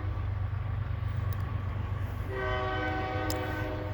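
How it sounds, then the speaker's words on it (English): Horns blaring from vehicles in a Trump train convoy, a loud sustained multi-tone blast joining over steady road rumble partway through, with no talking. "We're sounding our horns."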